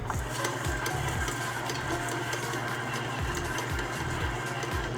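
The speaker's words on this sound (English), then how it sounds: "we're gonna mix everything up in our stand mixer. And we're gonna mix on low." Stand mixer running on low through a meatball mixture, a steady mechanical whir with faint rhythmic low thumps as the mixture turns, moderately quiet and without talk.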